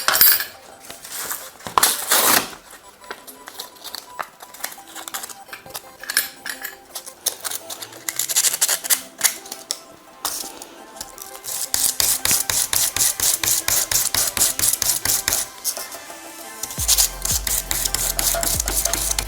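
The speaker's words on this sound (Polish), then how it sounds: "tylko wcześniej przygotujemy powierzchnię przez przetarcie papierem ściernym" Sandpaper rubbing a stainless steel surface to prepare it for soldering, rapid rhythmic scratching strokes, intermittent at first then a steady fast back-and-forth run, close and fairly loud with no talk.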